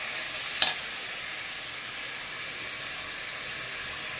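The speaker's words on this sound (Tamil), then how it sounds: "கறியை நல்லா எண்ணெயில் வதக்கிக்கிட்டோம்னா அது கறி சூப்பராக இருக்கும்." Pieces of mutton fry in hot oil in a pan for a Tamil-style mutton curry, a steady close sizzle and hiss with one brief stirring clatter near the start.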